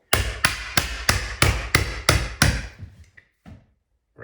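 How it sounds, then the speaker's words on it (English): Chisel driven into wood trim on an off-grid cabin build, a rapid run of about eight sharp, loud, evenly spaced hammered strikes, followed by a couple of fainter taps and near silence. "before I nail the outside piece of trim on, I'm just going to take my chisel"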